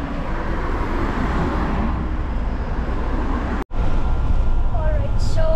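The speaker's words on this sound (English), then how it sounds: "we are sitting in the bus now, and there are 2 layers in this bus. It's very noisy" Steady, loud rumble of a double-decker bus moving through city traffic in Dublin, heard from inside among passengers, with a brief dropout partway and a faint squeal near the end.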